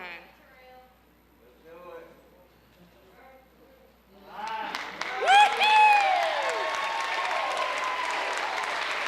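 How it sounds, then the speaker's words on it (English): A crowd at a college signing day breaks into applause and cheering after a few seconds of someone talking, the clapping swelling loud with whoops and a whistle, then holding steady to the end. "Let's give this young man a big round of applause."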